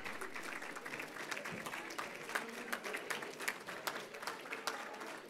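Audience applause at a senior awards chapel ceremony, steady scattered clapping from a seated crowd, moderately distant and fairly quiet, continuing without pause.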